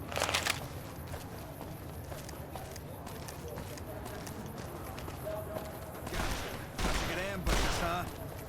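Gunfire in Fallout: New Vegas, with bursts of shots near the start and a few sharp loud cracks toward the end over busy game noise, with people talking throughout.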